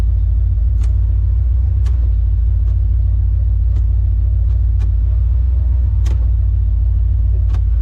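A race car engine at Rocky Mountain Race Week idles with a loud, steady low rumble, nearby and continuous, with a few sharp clicks and ticks rising over it.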